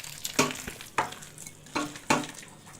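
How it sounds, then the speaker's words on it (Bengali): Egg fritters frying in oil in a wok over a low flame, with a soft background sizzle broken by four sharp, close knocks and scrapes at irregular intervals. "এবারে আমি এক এক করে বড়াগুলো সব, ডিমের বড়াগুলো সব ভেজে নেব।"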